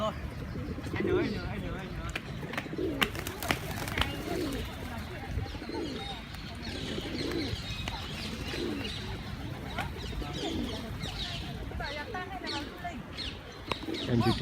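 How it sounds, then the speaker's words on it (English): Many pigeons gather and coo in a low rolling chorus, pulsing calls recurring every second or so amid outdoor ambience and light chirps, with people talking nearby. "Andy, look, so many birds here"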